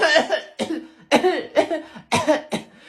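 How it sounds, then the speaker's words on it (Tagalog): A series of about six harsh, hacking coughs from a sick person in quick bursts, close up and loud, with brief pauses between them. "May ubo kasi ako"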